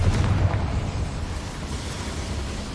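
In the video game Hogwarts Legacy, a Confringo fire spell detonates with a deep, rumbling burst. The low roar fades gradually over a few seconds with no voices over it.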